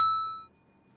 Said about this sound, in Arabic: الجرس يا جماعه والله بيسحبوا الجرس عندهم